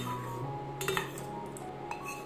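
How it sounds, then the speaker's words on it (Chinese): A spoon stirs dark chocolate in a small pot set in simmering water, giving a few light metallic clinks against the rim over a steady low background hum. "将小锅放在沸水中，用汤匙慢慢搅拌，直到黑巧克力完全融化"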